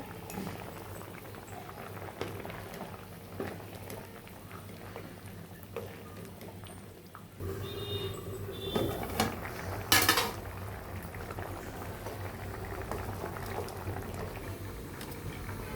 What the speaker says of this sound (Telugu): ఇదిగండి ములక్కాడ వడియాలు ఉడికిపోనండి. ఇట్లా ఉడికిపోతే చాలు.